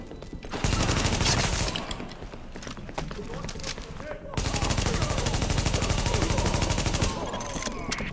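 Rapid gunfire from a weapon in the video game The Division, loud and sustained in dense bursts that pause briefly near the middle before resuming, with a voice speaking underneath.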